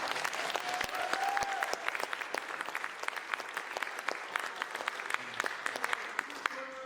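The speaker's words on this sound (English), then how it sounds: "Give them another round of applause." A crowd applauds graduating audio-video production students at a student media showcase, steady dense clapping throughout, with a brief voice-like tone early and the clapping thinning near the end.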